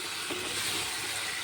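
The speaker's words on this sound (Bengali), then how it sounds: "আলুটিকে দিয়ে আবার একটু নেড়ে ছেড়ে নেব।" Potatoes cut into long strips stirred into spice masala frying in a pan, giving a steady close sizzle with faint scraping throughout, no voices.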